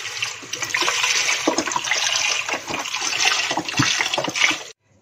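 Chicken broth poured into a soup pot, a steady loud rush of liquid splashing for about five seconds before stopping abruptly.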